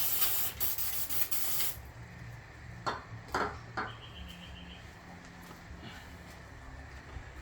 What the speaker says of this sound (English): I like to just give her a bit of a spruce up with some degreaser.